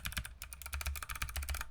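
Fast, steady clicking from a clicky handwired split USB-C keyboard, each keypress crisp and close, with no voices over the typing.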